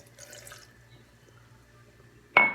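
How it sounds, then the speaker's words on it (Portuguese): A little water is poured onto sugar and assa-peixe flowers while making a homemade cough syrup, heard as a short, close splash near the end after a quiet stretch of faint kitchen background. "Você vai colocar um tantinho de água assim, olha."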